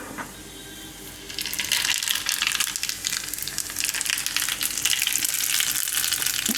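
Cumin and mustard seeds hit hot oil and start to crackle and sizzle loudly. A quieter moment comes first, then the bright sizzle runs on without pause.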